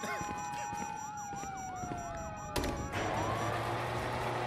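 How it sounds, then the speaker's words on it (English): Several wailing police sirens in Grand Theft Auto V rise and fall together, steady and fairly loud, followed by a sudden burst of noise and a low drone. "you hear that? Sirens!"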